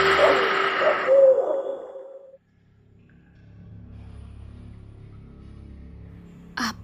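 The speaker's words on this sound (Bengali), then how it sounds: "হুতুম প্যাঁচা।" A hutum pyancha owl hoots a few times as a loud, close sound effect, fading out within about two seconds and followed by quiet background hum.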